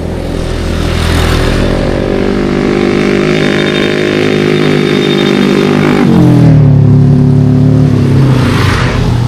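A motorcycle engine roars steadily on a mountain slope road on Gunung Slamet, then revs up sharply toward the end, loud and close with no voices.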